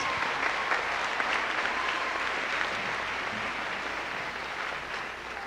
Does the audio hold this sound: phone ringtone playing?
no